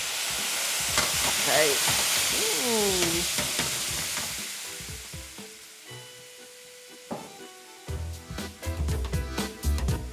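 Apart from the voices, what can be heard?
deglazing a beef pan with white wine, sizzling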